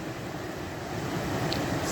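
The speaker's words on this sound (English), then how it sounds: "Water's flowing good." River water rushes over the Big Shoals drop as a steady, broadband wash, fairly faint and continuous with no talk over it.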